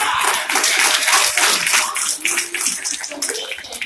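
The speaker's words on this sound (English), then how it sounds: "Give yourself a hand." Audience applause at a CBD business talk, dense loud clapping from a crowd of many hands that carries on steadily for several seconds, with a few voices mixed in.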